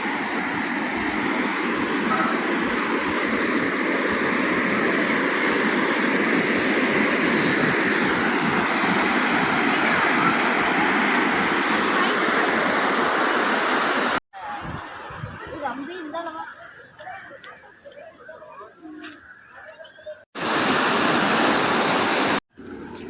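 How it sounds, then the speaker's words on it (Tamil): Water rushing steadily over small falls in the water park area of Aliyar dam, Pollachi, a loud continuous roar that cuts out briefly to quieter ambience before returning. "ஆழியார் டேமில் தண்ணி பார்க்கு சென்டரில் பார்த்தீங்கன்னா தண்ணி ஒரு ஃபால்ஸ் மாதிரி இருக்காங்க."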